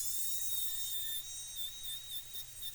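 Dental handpiece spinning a pink polisher cup on the lingual surface of a tooth, a faint high-pitched whine that stays steady, then wavers slightly as pressure changes.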